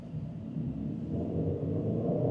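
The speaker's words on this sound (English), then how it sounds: "put it in sport mode and you accelerate" A Geely Preface sedan with a four-cylinder turbo engine accelerates in sport mode, heard from inside as a low, steady rumble that builds slightly and stays fairly subdued.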